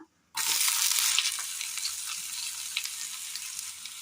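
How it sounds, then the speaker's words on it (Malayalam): Chopped onion hits hot oil in a pan for a curry: after a brief silence a loud, steady hiss of frying bursts in and continues alone, with small crackles scattered throughout. "എണ്ണയിലേക്ക് അരിഞ്ഞു വെച്ചിരിക്കുന്ന സബോള ചേർത്ത് കൊടുക്കുക"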